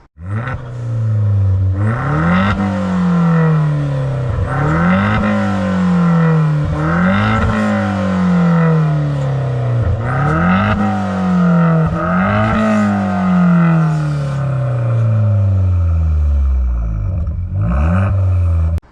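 A loud, throaty, modified Vauxhall Corsa VXR engine revs repeatedly, each rise in pitch cut off sharply before dropping back, with a raspy note from a decatted 3-inch Cobra exhaust with sports back box throughout and no talking.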